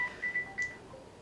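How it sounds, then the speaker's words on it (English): A phone sounds an incoming-call alert as a few short, thin electronic beeps in a quick broken pattern, faint and set back in a quiet room. "you getting a phone call during our video making?"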